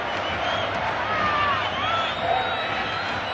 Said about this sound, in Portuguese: Sinta aí o som da torcida do Fluminense no Maraca.